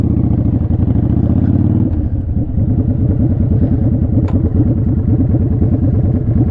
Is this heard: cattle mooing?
no